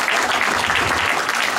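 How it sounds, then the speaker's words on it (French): Steady crowd applause for a restored statue returned to its original colours, dense clapping filling the moment at an even level with a faint voice beneath. "Ah, vous pouvez l'applaudir."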